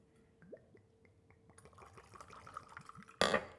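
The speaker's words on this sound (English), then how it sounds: "So we're going to put a little splash of Bruce Lemon flavored vodka." Bruce Lemon flavored vodka splashes into a glass in a short glugging pour, starting with soft drips and bubbly rising tones and ending in a louder burst of liquid.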